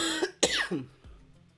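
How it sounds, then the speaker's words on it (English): A single sharp cough, close and fairly loud, followed by a softer throaty sound and quiet. "try to turn my head and cough, but I think it like shows up just as loud"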